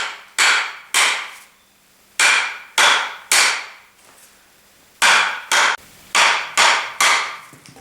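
A hammer strikes an axe head to seat it on a wooden handle, a series of sharp, loud, ringing knocks in irregular clusters with short gaps, each blow decaying quickly, no talking.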